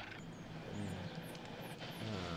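A helicopter flies away in the Jurassic World Evolution video game, its engine a low droning hum that holds steady and faint, with light background game sounds.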